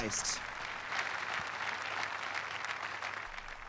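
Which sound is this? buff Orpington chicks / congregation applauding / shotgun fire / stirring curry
congregation applauding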